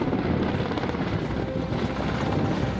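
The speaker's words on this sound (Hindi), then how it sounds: "MI-17V5 हेलीकॉप्टर के जरिए भीमताल से पानी लेकर जंगलों में लगी इस आग पर बौछार की गई" An Indian Air Force Mi-17V5 helicopter fights a forest fire near Nainital, Uttarakhand, ferrying water from Bhimtal lake. Its rotor and engine give a loud, steady, continuous roar throughout, with no voices.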